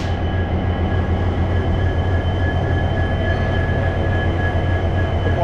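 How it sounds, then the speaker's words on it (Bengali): The 13063 Balurghat Express passenger train runs at speed, a loud, unbroken rumble of wheels and carriages heard from on board, with no voices. "আর এই হচ্ছে আমাদের ট্রেন।"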